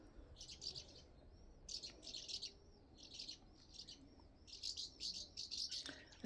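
Swallows call overhead above rooftops in a sunlit South France village, repeated bursts of high twittering chirps coming in quick clusters, fairly close and clear over quiet background.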